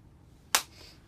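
A single sharp hand clap, close and crisp, struck once to sync cameras before a television news interview, standing alone against a quiet room with a short decay.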